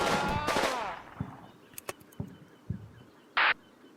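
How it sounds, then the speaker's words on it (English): Gunfire from a WW2 battle in northern Sicily in Combat Mission: Fortress Italy strikes a building. A loud opening burst gives way to scattered, sharp distant shots and impacts, with one harsh crack near the end. "we have rounds hitting that building"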